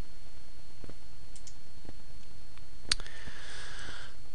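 Sparse, faint computer mouse clicks while working in SoftPlan drafting software, a few isolated soft ticks scattered across a quiet background, one slightly sharper near the middle.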